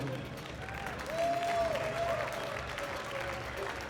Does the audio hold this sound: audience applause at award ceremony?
yes